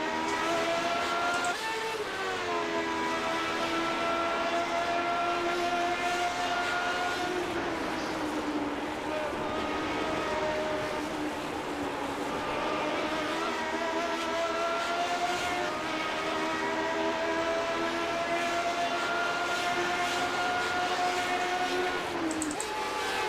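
Lotus 79 Formula One cars race around the Belle Isle Detroit street circuit in a racing video game, their engines droning loudly and continuously with pitch rising and falling through gear changes, while a commentator talks over the action throughout.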